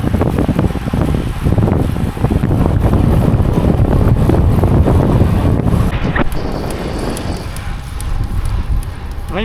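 Strong headwind buffets the microphone while cycling, in heavy gusts, roaring and rumbling continuously, with a faint voice underneath.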